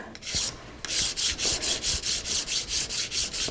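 A homemade sandpaper polishing stick is rubbed back and forth in a studio in steady, rhythmic rasping strokes, close and fairly loud, about a dozen even passes after a few uneven starts.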